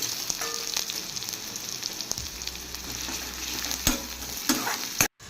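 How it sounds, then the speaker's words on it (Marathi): Onion, green chili and curry leaves frying in oil with cumin in a kadhai, a loud steady sizzle with occasional stirring scrapes, ending in a sudden cut. "आणि त्याच्यानंतर टाकलं आहे कांदा मिरची आणि कढीपत्ता आणि थोडंसं फ्राय करू"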